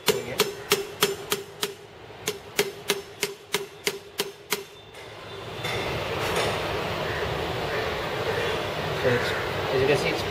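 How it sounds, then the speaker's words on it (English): A hammer drives a front wheel bearing into place: about a dozen sharp, evenly spaced metallic strikes in quick succession, then the blows stop and only a steady background rumble remains. "Always hammer the direction and get it pretty straight."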